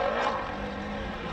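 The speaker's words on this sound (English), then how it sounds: "The distinctive engine note of the Subaru. Got a real roar with this car." A Subaru rally car's engine gives a brief, loud roar at the 2020 Battle of Jack's Ridge, a dense, steady growl heard close.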